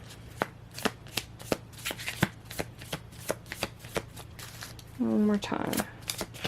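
A tarot deck being shuffled by hand during a pick-a-card reading, heard as a steady series of crisp, close card slaps and riffles, with a brief spoken phrase near the end.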